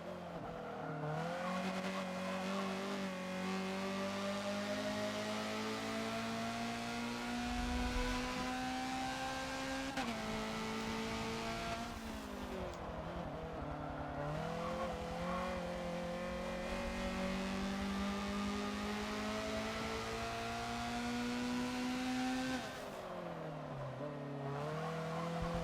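A Honda CRX race car laps the Long Beach track in Forza, its engine revving up through the gears in long rising sweeps, dropping sharply on shifts and braking, loud and continuous with no talk.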